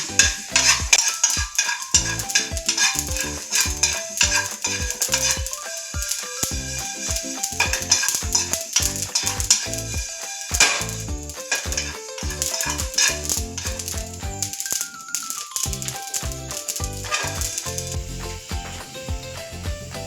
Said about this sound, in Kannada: ಇಷ್ಟು ಸಾಸಿವೆ ಹಾಕ್ತೀನಿ ಇದೆಲ್ಲ ಹುರ್ಕೊಳ್ತೀನಿ